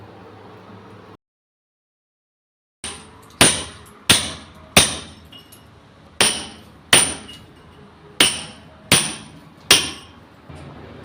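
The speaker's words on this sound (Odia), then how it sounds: "ସିମେଣ୍ଟ ଇଟା କାନ୍ଥ ଧୂଳି ଉଡ଼ିବ ବୋଲି ମୁଁ କଟନ୍ ମେସିନ୍ ମାରିନି, ସେଥିପାଇଁ ମୁଁ ହାତରେ ଖୋଳି ଦେଉଛି" A cement brick wall is chiselled by hand for bathroom plumbing work: after a brief silence come about nine sharp, ringing hammer blows on the chisel, each loud and close, struck in an uneven rhythm with short decays.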